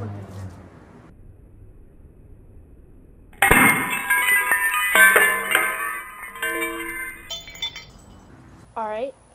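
Glass bottles shattering after bottle-flip attempts: a sudden loud crash with bright clinking shards scattering, then scattered tinkles of glass being swept up, with people talking around it.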